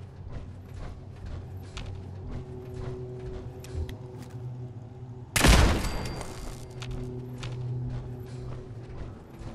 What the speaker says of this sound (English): It's a machine gun turret.